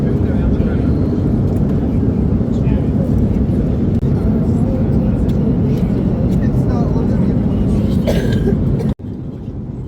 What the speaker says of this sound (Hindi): तो अल्हम्दुलिल्लाह मुक़द्दस मदीना में लैंडिंग हो रही थी।